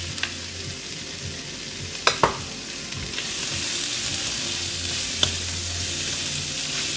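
Leftover minced pork stir-fries in a pan, a steady bright sizzle running throughout, broken by a couple of sharp utensil knocks and scrapes against the pan.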